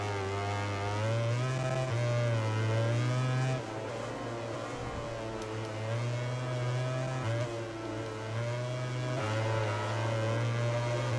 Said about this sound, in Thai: แต่เสียงท่อนุ่มมากเลยนะ